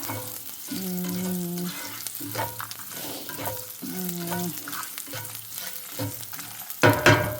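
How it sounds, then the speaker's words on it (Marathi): Garlic frying in oil sizzles quietly beneath stirring clatter and scraping close by. Two short tonal hums rise over it, and a louder clatter comes at the end. "हा चांगला फ्राय झाला, चांगला गार्लिक"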